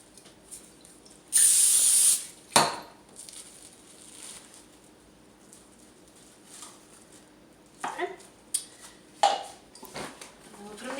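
Pam cooking spray hissing over sourdough dough in a home kitchen: one steady spray burst of about a second, followed by a sharp clatter and faint handling noises, with quiet talk nearby.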